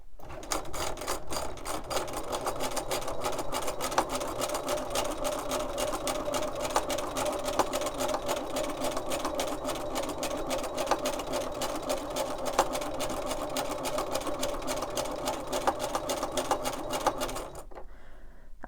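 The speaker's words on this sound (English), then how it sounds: "what I'm going to do is stitch around these circles just to reinforce the holes" A sewing machine stitches around circles to reinforce holes, running continuously at a fast, even rhythm for about seventeen seconds before stopping abruptly, close and clear with no talking.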